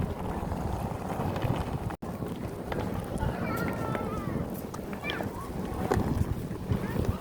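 A passenger barge headed for Bohol gives a steady, rough rumble blended with gusting wind buffeting the microphone, and indistinct voices mix in throughout.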